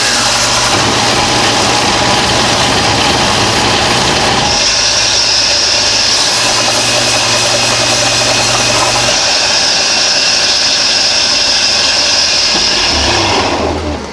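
A sander runs steadily on a kydex holster edge, a loud continuous whine and grind throughout with a shift in pitch partway through as the material is worked, ending abruptly when it stops.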